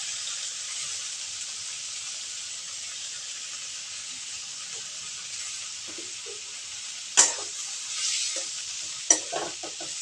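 Yardlong bean stems stir in a hot pan with a quiet, constant sizzling hiss, broken by a couple of sharper scrapes and clicks from the utensil near the end.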